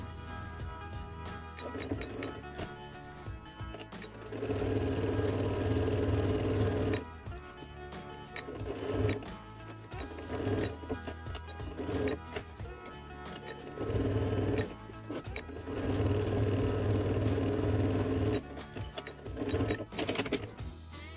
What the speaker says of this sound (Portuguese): eu vou rebater uma costura no pé do zíper